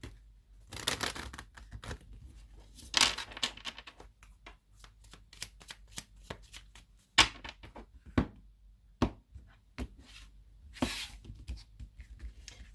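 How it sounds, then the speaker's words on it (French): Tarot cards riffled and shuffled by hand close up, a rapid run of crisp flicking and slapping bursts with short pauses between them, fairly quiet with no talking. "je mélange bien les cartes"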